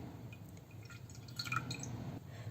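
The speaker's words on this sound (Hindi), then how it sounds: "अब मैं थोड़ा पानी लूँगी इनको स्लाइस को डिप करने के लिए।" Water is poured into a dish for dipping bread slices while making a crispy bread and potato snack. It comes as a quiet, close trickle with light splashy drips and no talking.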